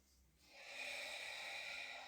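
A person in a Pilates class takes one long, loud breath close to the microphone. It swells from quiet into a steady airy rush that lasts well over a second.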